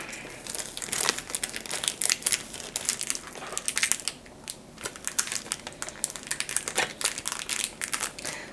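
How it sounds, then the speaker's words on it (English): Foil packs of Disney Lorcana Into the Inklands trading cards are torn open by hand, producing continuous close, crisp crinkling and tearing bursts with short pauses in between. "So we are opening Into the Inklands packs."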